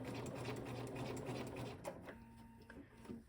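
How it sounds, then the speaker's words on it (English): A sewing machine runs at a steady, rapid whir at 3 stitch length while stitching a fly front zipper into women's pants, then slows and pauses with small mechanical clicks near the end. "Again, I'm using a 3 stitch length, and we're just going to sew right down here."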